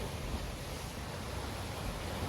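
Waves crashing below the Pomme de Terre lake dam in Missouri after the gates open, as a continuous loud broadband rush of churning water with no distinct breaks, heard without talk.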